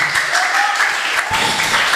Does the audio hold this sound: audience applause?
yes